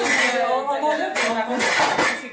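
A steamer pot and metal utensils are handled in a kitchen while Algerian food is prepared, giving several sharp clinks and clattering knocks at irregular moments under a voice talking nearby.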